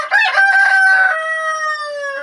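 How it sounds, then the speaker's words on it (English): A rooster crows once, loud and close, a raspy opening rising into a long, drawn-out tonal cry that slowly trails off. "oh that rooster"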